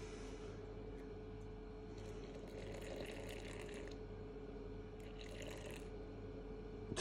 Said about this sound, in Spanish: Y ahora otro 70 de agua.